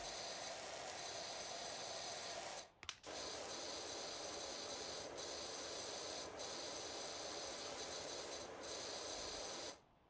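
A pressure washer in PowerWash Simulator blasts a constant loud water hiss. It drops out briefly near three seconds, dips faintly a few more times, and stops just before the end.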